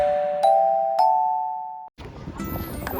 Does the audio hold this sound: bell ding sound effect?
yes